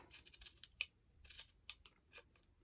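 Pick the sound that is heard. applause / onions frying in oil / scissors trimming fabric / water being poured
scissors trimming fabric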